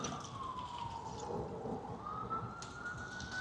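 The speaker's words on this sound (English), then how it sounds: "And the sirens are constantly running." A siren wails at a beach at high tide, a distant gliding tone that slowly falls and then rises again over a steady wash of surf and wind noise.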